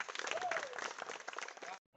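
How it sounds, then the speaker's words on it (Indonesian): Applause from a group of junior high school students, a dense burst of clapping that lasts under two seconds and then stops abruptly, with a faint voice mixed in. "tepuk tangan buat kalian"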